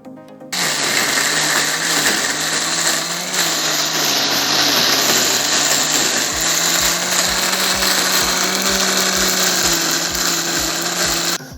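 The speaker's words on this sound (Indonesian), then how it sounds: "Oke, kita cuper dulu biar halus." An electric food chopper whirs loudly and steadily grinding chili and shrimp paste into sambal, its motor pitch shifting as it grinds, with rhythmic thumping pulses in the second half.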